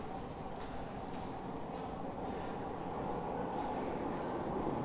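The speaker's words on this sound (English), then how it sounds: "And the train is rolling in." A Toronto subway train rumbles into a station with a steady rolling roar and faint rhythmic clacks of the wheels, growing slightly louder as it arrives.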